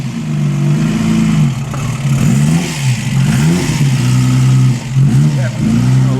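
A Ghia-designed Fiat six-cylinder engine revving at a classic car concours, loud close rising and falling revs over a steady idle, with talk partly mixed in.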